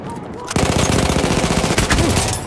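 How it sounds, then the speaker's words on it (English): Sustained rapid machine gun fire in the Battlefield 1 video game bursts in loudly after a brief quieter moment, a dense, continuous stream of close shots with a voice faintly in the mix. "Enemy machine gun sighted."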